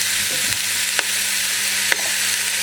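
Chopped leek and carrots sizzle in a hot soup pot as they are stirred, a steady crackling hiss with two sharp utensil knocks against the pot.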